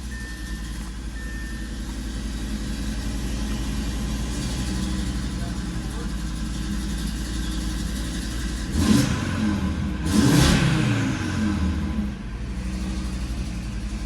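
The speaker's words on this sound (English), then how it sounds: "Always love to hear new exhaust." A five-cylinder Audi RS3 engine with a new exhaust idles with a steady low rumble, then revs up twice in short bursts before settling back to idle; someone talks nearby.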